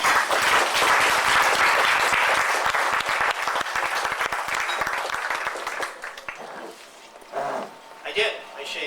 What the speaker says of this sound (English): So let's give Barry a round of applause.